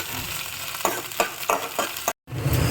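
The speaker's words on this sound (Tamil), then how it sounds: "ஸோ வெண்டைக்காய் நல்லா வதங்கியாச்சு." Okra sautéing in a hot pan: a close, steady sizzle broken by several rhythmic scraping stirs of the spatula, with a brief cut near the end before the frying resumes.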